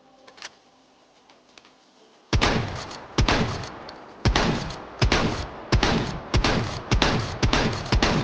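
Magazine-fed KSG CQB shotgun firing in the H3VR virtual reality game: after quiet handling clicks, nine loud heavy blasts come at a steady pace, each followed by a short rattling echo.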